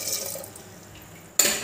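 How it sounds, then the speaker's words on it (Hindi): Water poured from a glass into a pot of peeled green mangoes in a home kitchen gives a brief, bright splash after a quiet stretch of faint background noise. "पानी ऐड कर रही हूँ गिलास।"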